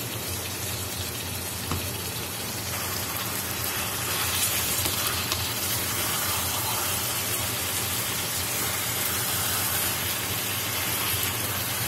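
Kerala-style chicken roast sizzles in a pan as it dries out, a steady, loud, rain-like hiss that fills the whole stretch with no pauses and a few faint clicks.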